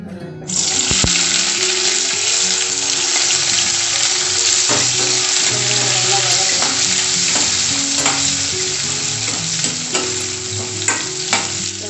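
Small shallots sizzle and fry steadily in hot oil in a pan for vendakkai puli kuzhambu, a Tamil okra tamarind curry, with occasional stirring scrapes and clinks throughout.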